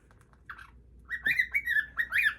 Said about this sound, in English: All that chirping you were doing